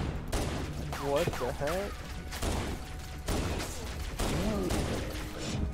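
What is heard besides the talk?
pistol gunfire in the video game Halo: Combat Evolved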